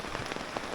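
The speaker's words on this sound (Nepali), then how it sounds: "अब पानी पर्यो" Steady rain falls on a hillside trail near Ghandruk, a dense, even patter of drops on surfaces close by with no voices.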